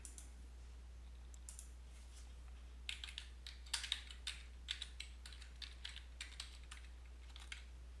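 Keys clatter on a computer keyboard as HTML code is typed, quiet irregular bursts of clicks that quicken in the middle, with no other sound beyond a steady low hum.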